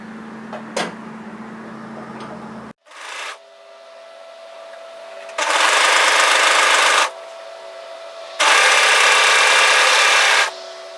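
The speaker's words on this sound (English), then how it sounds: "we're just going to overlock that shoulder together." An overlocker stitches the shoulder seam of a yoke sweater in two sustained runs of loud, even whirring, with a quieter mechanical hum and a brief thump between them.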